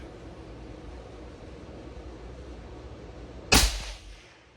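A single rifle shot from a rifle in an MDT Hunt 26 chassis cracks sharply out of steady outdoor background noise near the end, then decays quickly.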